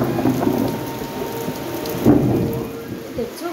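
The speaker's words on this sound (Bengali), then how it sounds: "দেখো কি বৃষ্টি হচ্ছে, দেখো বিদ্যুৎ চমকাচ্ছে" Heavy rain pouring down during a thunderstorm, a steady close hiss of rainfall with a low rumble of thunder building midway, no voices.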